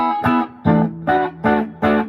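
Distorted chords on a 1960s Norma electric guitar with humbuckers struck five times in a steady rhythm, each ringing briefly with gritty amp break-up before the next strum.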